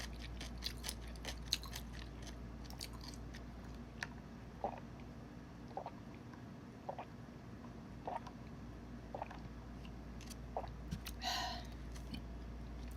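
Braised short ribs being chewed, with soft, faint, close bites and wet chewing at a slow, regular pace against a quiet background.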